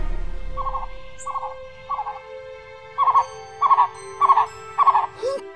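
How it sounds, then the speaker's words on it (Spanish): A tocororo bird calls in a series of evenly spaced, short hooting notes that grow louder toward the end over a faint steady hum. "¡El pájaro! ¡Es un tocororo!"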